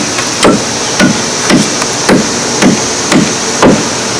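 A steady series of seven hammer strikes on a nail in wood, evenly paced about every half second, loud and close with a crisp metallic ring on each hit.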